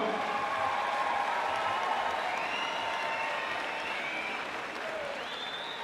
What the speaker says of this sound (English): let's get another big, big round of applause for these two fighters.